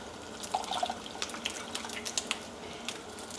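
Water trickles and splashes into a container in short uneven drips, close by and fairly quiet.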